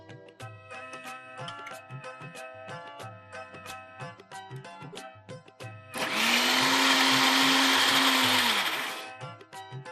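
Scattered tapping and clinking in a kitchen, then at six seconds a mixer grinder whirs loudly into a steady high whine, blending moraiyo, sabudana and curd, before winding down near the end.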